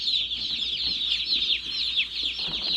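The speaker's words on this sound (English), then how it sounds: "So now we are going to go ahead and unpackage the chicks." Hundreds of newly delivered chicks peep in their shipping boxes at a brooder house, a dense, loud chorus of high, rapid chirps overlapping continuously with no talking.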